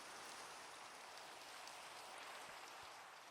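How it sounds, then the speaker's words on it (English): Steady rain pours down in the Minecraft video game, a soft, continuous hiss of falling drops with no breaks and no voices, fairly faint throughout. "Just as I'm saying it's sunny, it starts raining."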